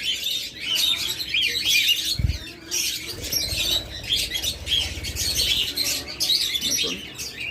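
Several pet birds, albino and classic colour pairs kept at a farm, chirp and tweet continuously in quick high bursts, fairly close, with occasional squawks and a brief low thump.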